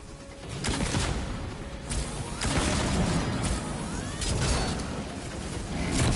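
Rocket grenade launcher fire in the Exoprimal game, several whooshing blasts and crashes arriving in waves over a constant rumbling backdrop of battle noise, fairly loud with no voices.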